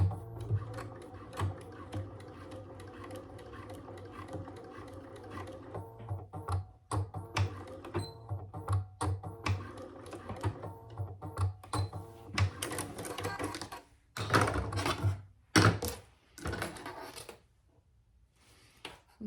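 Stitching rows on a fabric wallet, a sewing machine gives off bursts of close rapid mechanical tapping that start and stop, growing louder near the end before falling quiet.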